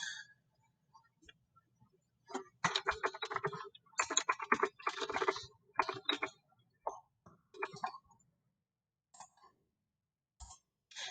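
Typing a Google search on a computer keyboard: bursts of rapid, close key clicks with short gaps, then a few scattered single taps near the end, quiet and with no talking.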